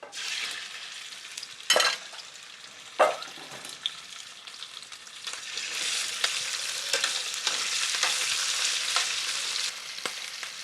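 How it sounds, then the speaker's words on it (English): Scallops fry in a hot pan with peperoncino, giving a bright steady sizzle that swells and thickens toward the end, broken by a couple of sharp scraping stirs and small clacks near the start. "The scallops takes longer to cook, so they're the first ones to go in."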